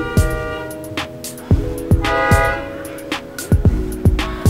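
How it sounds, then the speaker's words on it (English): Outside, a vehicle sounds a loud, tonal horn-like melody in repeated bursts with sharp percussive knocks between them, close by and dominating the scene. "do you hear that ice cream truck?"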